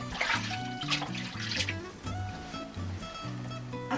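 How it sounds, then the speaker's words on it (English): Hands being washed under running tap water in a kitchen after mixing a beef and bean pasta bake, a steady trickling splash with some faint rubbing, fairly soft and close. "We're going to wash our hands again."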